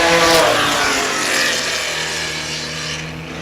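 Vintage Porsche race cars at the Pittsburgh Vintage Grand Prix roar past on the course, a loud, close engine rush that swells early and slowly fades as the cars pull away.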